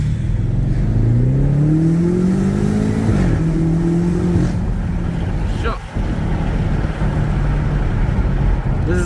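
A BMW M8 Competition accelerates hard, the engine note climbing in pitch through a gear, dropping at a shift, then pulling on steadily, loud and heard from inside the cabin.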